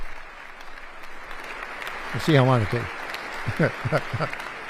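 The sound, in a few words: crowd applauding at a political rally speech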